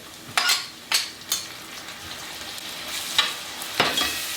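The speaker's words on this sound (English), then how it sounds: "Let's mix this together all, and I'm gonna cook this just for 1 minute." Chicken chili sauce with tomato cooking in a pan, a soft continuous sizzle broken by several scraping stirs of a spoon, close and clear with no voices.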